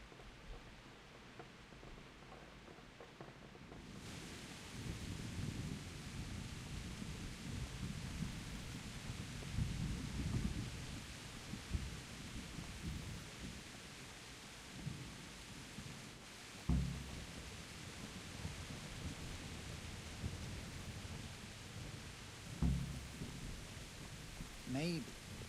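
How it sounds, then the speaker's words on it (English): Steady heavy rain in the video game Kingdom Come: Deliverance starts suddenly and keeps pouring, with deep rolls of thunder rumbling underneath and a couple of sharper thunder cracks later on. "Why am I going all the way the fuck out here in the rain?"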